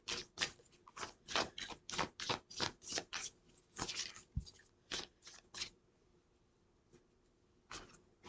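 Cards being riffled in quick bursts, a run of rapid crisp flutters followed by a pause, then one more short riffle near the end.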